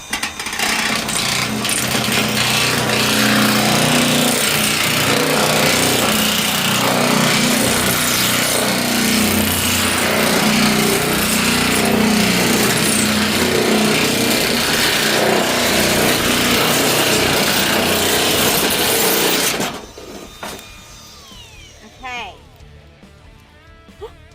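An electric nibbler chews through corrugated metal sheet in a loud, continuous grinding rattle for about twenty seconds, then stops abruptly, leaving quiet handling noises.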